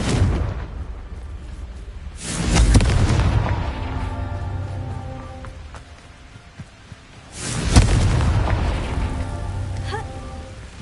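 Confringo blasting spells in Hogwarts Legacy burst out as two heavy booming explosions a few seconds apart, each trailing into a long crackling rumble, loud and close.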